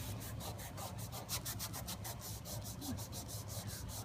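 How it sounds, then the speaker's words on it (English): Dark wax being rubbed along the grain of maple wood, a steady rhythmic scrubbing of cloth on the surface that continues close and even throughout, with no talking. "So you just want to rub with this grain and take off any wax that didn't make it inside the wood"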